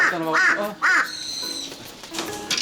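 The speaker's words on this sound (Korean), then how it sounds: "까마귀 중에서 가장 영리한 큰 부리 까마귀죠." An injured large-billed crow under rescue care gives three loud, close, harsh caws in quick succession, followed by softer scattered calls and faint background noise.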